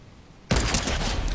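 Gunfire in the video game Fortnite: after a quiet half second, a sudden loud burst of shots starts and continues as a dense, rapid fusillade to the end, close and intense.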